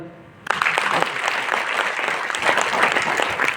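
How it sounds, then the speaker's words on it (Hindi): An audience bursts into loud, dense clapping after a sharp onset, sustained steadily throughout at a motivational business seminar. "ठोको ताली"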